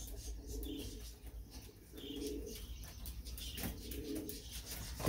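Pigeons cooing nearby in repeated soft, low throaty phrases, with faint chirps and a rustle at the end, and no talk.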